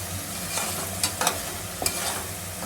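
Tomato pieces fry with oil and spices in a cooker, giving a steady low sizzle with a few brief stirring scrapes and clinks, close and alone with no talk.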